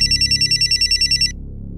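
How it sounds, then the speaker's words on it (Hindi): A mobile phone rings with a bright electronic ringtone in quick repeated pulses, close and loud, stopping after just over a second. "तुम्हारा फोन बज रहा है।"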